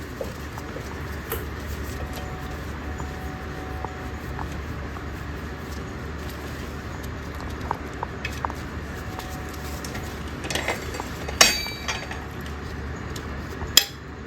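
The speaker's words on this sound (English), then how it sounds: "All right, let's pull the pin." A brake pad pin is worked out of the caliper on a Honda CR250 dirt bike, giving small scattered metallic clicks and clinks close by over a quiet background, with a couple of sharper taps near the end.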